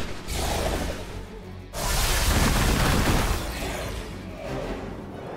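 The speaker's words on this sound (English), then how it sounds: "I can use the bomb." A bomb goes off in the turn-based superhero game Marvel's Midnight Suns: a loud, dense booming blast with a rumbling roar that holds for a couple of seconds before easing off.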